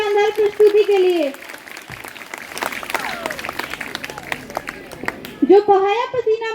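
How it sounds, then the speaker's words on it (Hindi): At a school Independence Day celebration at GSSS Kalod Gudha, an audience claps for a dance performance, a dense burst of applause in the middle, with a voice speaking before and after. "जोरदार तालियां इस शानदार प्रस्तुति के लिए"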